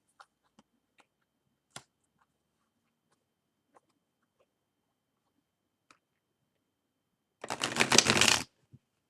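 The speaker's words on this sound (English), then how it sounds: "This is not that slippery, so I'm going to shuffle them together." A quick burst of tarot cards being riffle-shuffled, a dense fluttering rush lasting about a second, preceded by scattered faint clicks and near silence.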